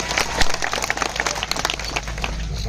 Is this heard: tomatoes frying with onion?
no